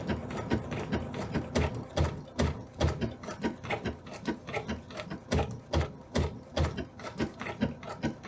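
Sewing machine stitching fabric, a fast, regular mechanical clatter of needle strokes repeating steadily and close by, with no voices.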